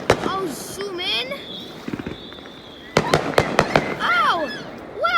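Fourth of July fireworks bursting at a distance, a cluster of sharp cracks and pops with rising whistles, while people talk and exclaim nearby.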